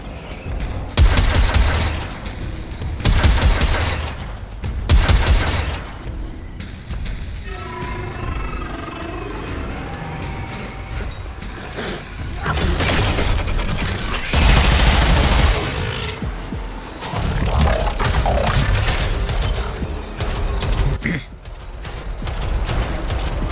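Automatic grenade launchers in the video game Warframe fire in rapid bursts, loud dense booming volleys that come in repeated waves with brief lulls between, layered with mechanical game effects.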